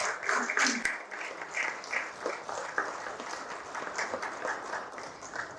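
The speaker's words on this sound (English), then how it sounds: "Ladies and gentlemen, with a round of applause, help me welcome Stephen and Woody." A conference audience at a sales and technology event applauds to welcome speakers, with dense, steady clapping from many hands filling the room for several seconds.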